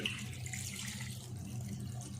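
Water poured into a wok holding half a kilo of washed bone-in mutton, a soft continuous splashing stream for a couple of seconds, faint and close.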